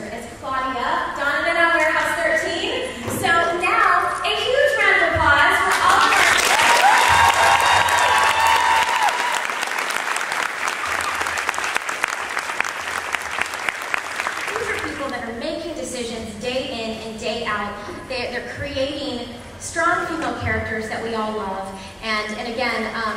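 Loud audience applause and cheering swell through a crowded San Diego Comic-Con convention panel room, peaking for several seconds before fading back under continued talk from the stage.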